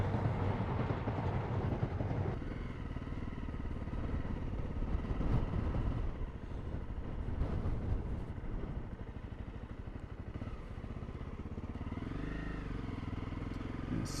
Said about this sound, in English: Now we've got to wait for the train.